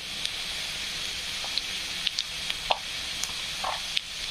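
Potatoes frying in a pan with turmeric, salt and red chilli powder, a steady soft sizzle with occasional small pops and spatula clicks throughout.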